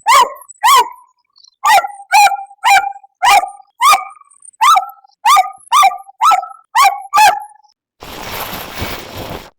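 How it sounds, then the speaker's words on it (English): An AI-generated dog bark: about a dozen loud, sharp woofs close up, some single and some in quick pairs, in an irregular rhythm with short silences between them. A burst of broadband noise follows at the end. "let's type a dog barking and let's hit submit"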